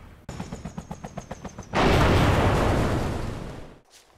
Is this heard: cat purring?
no